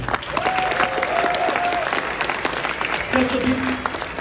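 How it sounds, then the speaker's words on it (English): An audience at the Miftah Institution in Canada gives Khabib Nurmagomedov a round of applause, a dense, sustained wash of clapping with a voice speaking over it. "Let's give Khabib a round of applause."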